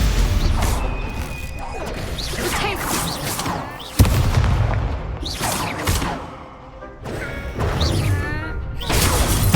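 Stupefy spell impacts in the wizarding game Hogwarts Legacy, a run of sharp crashing hits and whooshes in quick succession amid combat clatter, with one especially hard strike, up close and loud.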